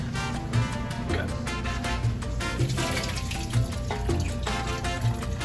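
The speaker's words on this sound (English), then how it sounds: "we got our base for our birria here. We're going to pour it over our meat" Birria base liquid is poured over meat, producing a continuous splashing, gurgling flow close up against a background of music.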